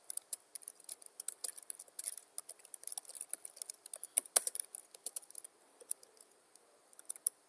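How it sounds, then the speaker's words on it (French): Quick, light keystrokes on a computer keyboard as a short test message is typed, a steady patter of small clicks with a few louder taps, close and alone without any voices. "tout ce que je tape, j'écris un test. J'écris rapidement un test."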